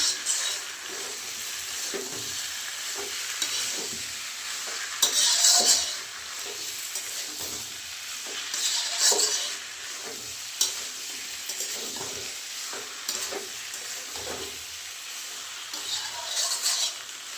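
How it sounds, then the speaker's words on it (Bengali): Soybean chunks frying in a pan for a coconut-milk soybean and taro curry, stirred with a utensil that scrapes and knocks against the metal at irregular intervals over a steady close sizzle. "সোয়াবিনটা দিয়ে দিলাম, দিয়ে একটু নাড়িয়ে দিলাম"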